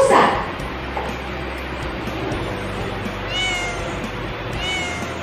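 A cat meows a few times over steady background noise, with a brief louder sound at the start.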